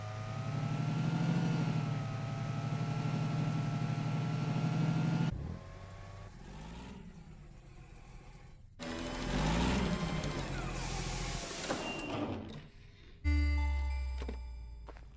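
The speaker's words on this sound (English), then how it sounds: "Go, you truck." A truck in a video game drives with a steady engine drone that cuts off abruptly. Bursts of rumble and clatter follow, then sharp mechanical noise. The sounds are loud and close, with no talk over them.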